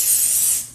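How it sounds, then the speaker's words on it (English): Pam cooking spray is sprayed onto a baking pan in one short, close, steady hiss that fades out after under a second. "I'm going to spray our pan"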